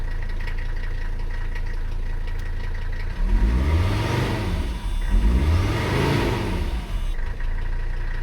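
Diesel engine of an abandoned Mercedes 300CD running at a steady idle, then revving up twice in quick succession with rising and falling pitch before settling back to idle, close and loud.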